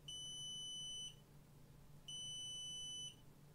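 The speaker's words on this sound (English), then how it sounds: "you can press the buzzer" Two identical electronic buzzer tones on a Xiaomi 360 camera rig, each a steady high-pitched beep lasting about a second, separated by a second of quiet; nearby and clean.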